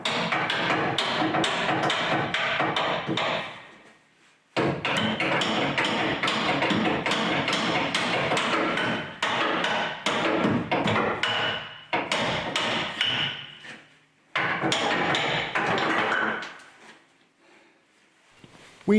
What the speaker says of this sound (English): The rear anti-roll bar gets the hammer action next.